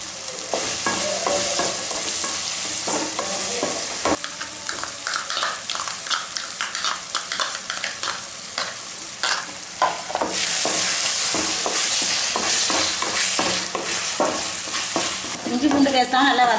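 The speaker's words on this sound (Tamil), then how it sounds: "அதெல்லாம் சேர்த்து வதக்கிக்கணும்." Green chili paste being stirred and sautéed in a pan for a country chicken curry: continuous loud frying sizzle with repeated scraping and clattering spoon strokes throughout, close and busy, with no talk.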